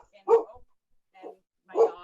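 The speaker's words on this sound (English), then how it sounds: "my dog," A dog named Opal barks three times, two sharp close barks with a softer one between them, heard in a quiet indoor home studio.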